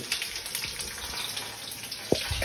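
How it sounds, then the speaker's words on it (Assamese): A steady, hissing sizzle of small potatoes frying in a pan, moderately close, with a couple of soft clinks near the end. "আলু গুটি ভাজি সৰু আলু"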